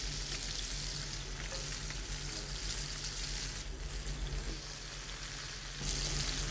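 Langoustines browning in a hot pan, a dense continuous sizzle and crackle of frying that holds steady throughout, close and loud with no talk.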